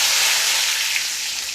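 Curry leaves hit hot oil that already holds popped mustard seeds and set off a loud, steady sizzle close by. The hiss carries on for the whole moment with no break.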